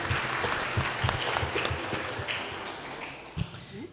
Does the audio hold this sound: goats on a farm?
no